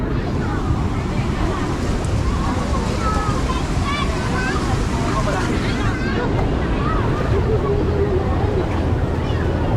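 River water rushes past at Balanac River dam, a loud, constant roar of flowing water with wind buffeting the microphone; a person speaks briefly over the noise.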